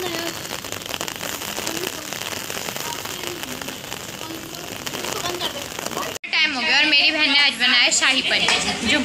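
Steady broadband hiss of rain falling for several seconds, then a voice talks loudly close by while the rain continues underneath.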